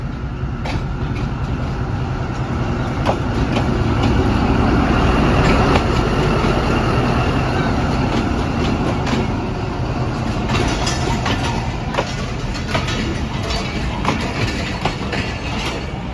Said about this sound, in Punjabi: ਇਹ ਟ੍ਰੇਨ ਆ ਗਈ ਕਿਲਾ ਸੂਬਾ ਸਿੰਘ ਸਟੇਸ਼ਨ ਤੇ